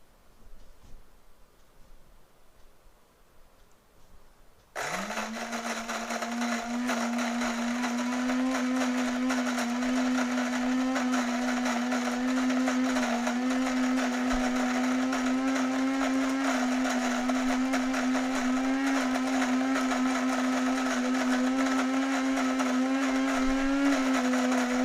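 Cuisinart DGB800 grind-and-brew coffeemaker's burr grinder starting up after a quiet moment, then grinding coffee beans with a loud, steady whirring drone that holds for about twenty seconds.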